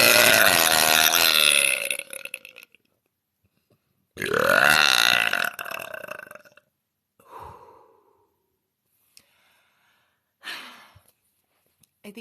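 A woman's long, loud, drawn-out burps, a sustained voiced belch followed after a pause by another long one, then a few shorter, softer belches and breathy sounds, with no talking.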